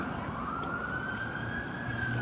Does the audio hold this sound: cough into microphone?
no